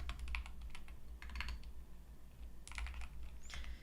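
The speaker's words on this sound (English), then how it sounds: "my typing's not very good right now" Keystrokes on a computer keyboard in bursts of quick, fairly faint clicks, with pauses between runs of typing, over a low steady hum.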